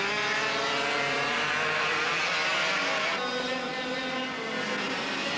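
Racing go-kart engines at a 1993 European karting event whine and buzz in a loud, continuous drone, with pitch shifting as karts pass close by.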